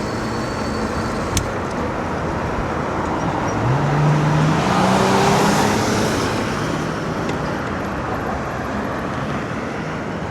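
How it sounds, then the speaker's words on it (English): Congested car traffic on a road near the Wynn Resort, heard as a steady close roar of engines and tyres that swells slightly midway as vehicles pass, with no talk. "I'm not going to get in that left lane. It's too much congestion of cars."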